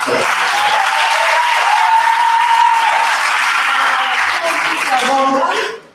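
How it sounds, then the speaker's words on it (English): A crowd applauds loudly and steadily, a dense wash of clapping with some cheering voices mixed in, before it fades out abruptly at the end. "Actually, you deserve a standing ovation."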